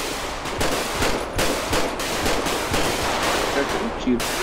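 Rapid bursts of GTA 5 video game gunfire crack out in a dense, loud volley that runs through the whole stretch with only brief gaps.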